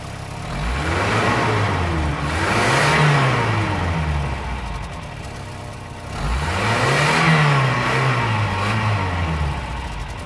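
An engine revs up twice, pitch rising and falling in two swells, loud and close, settling back toward idle between them.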